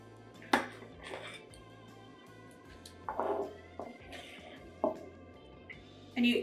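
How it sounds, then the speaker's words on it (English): An ice cream scoop portioning chocolate soufflé batter into ramekins gives a few light clinks and taps, spaced out and close by, over a steady low kitchen hum. "And I am using an ice cream scoop to do this"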